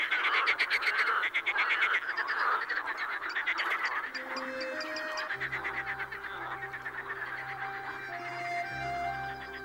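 Dense chorus of marsh frogs croaking in the Volga Delta, a continuous rattling mass of overlapping calls, loud and close, with steady low drones joining in the second half.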